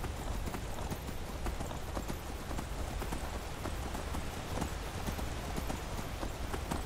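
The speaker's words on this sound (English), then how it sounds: "Go, horse, go, you piece of crap." A horse gallops in Skyrim VR, its hooves clip-clopping in a fast, steady rhythm that stays loud and close throughout, over a hissing background.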